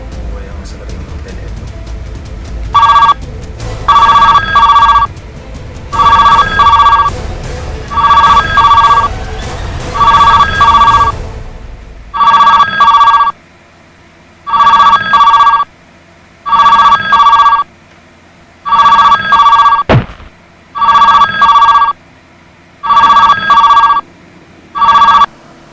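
A telephone bell rings in repeated double bursts, about a dozen evenly spaced rings, loud and close, with a rumbling noisy background early on that then drops away.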